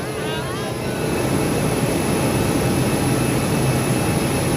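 Jet airliners, including Akasa Air, IndiGo and Air India aircraft, roar steadily and loudly at an airport, a broad continuous engine rumble with a faint high whine and a voice speaking over it.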